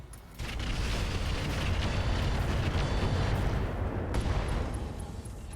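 Deadfire missiles launch and burst against an enemy mech in RogueTech, a dense, continuous roar of blasts and rumbling booms lasting several seconds, loud and close with no voices over it.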